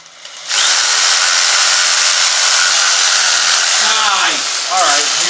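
A power tool whines loudly and steadily while trimming a Christmas tree trunk, starting abruptly and running near and continuous, its pitch dipping briefly under load before picking back up near the end.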